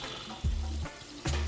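Salmon and sautéed potatoes sear in a pan, a brief steady sizzle joined by two low hums.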